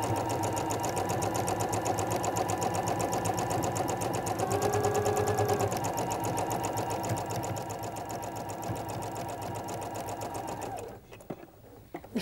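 A sewing machine runs steadily with a fast, even mechanical whir and rhythmic needle clatter up close, stopping abruptly near the end, leaving a quiet room.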